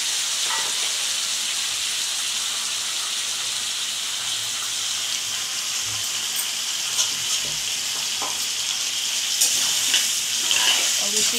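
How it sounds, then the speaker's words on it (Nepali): Ground spice paste fries with brinjal and fish in a pan, a steady close sizzle throughout with a few faint clinks and stirring sounds. "मजाले फ्राई गर्ने मसला नभुटुन्जेलसम्म।"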